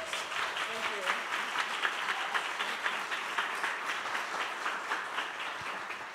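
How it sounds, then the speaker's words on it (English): Audience applause following a flute performance on a classical concert broadcast, a steady wash of many hands clapping at moderate distance, with a voice speaking faintly at the start. "one more round of applause for Laura Futamura, please."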